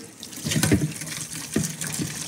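Cool water pours and splashes into a bowl of sea moss, a full gushing flow with a couple of heavier sloshes, close and alone without any talking.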